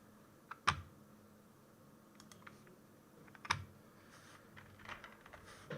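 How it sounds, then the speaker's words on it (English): Computer keyboard typing, heard as a few sparse, faint key clicks with two sharper taps standing out against quiet room noise. "I accidentally opened a window while typing it in."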